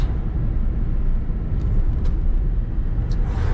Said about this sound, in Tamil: third gear engine braking